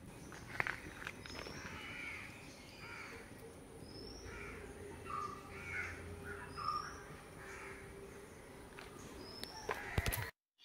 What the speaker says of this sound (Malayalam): ഞങ്ങൾ കാക്കച്ചികളെയും കിളികളെയും ഒക്കെ സൗണ്ട് കേൾക്കാൻ പറ്റും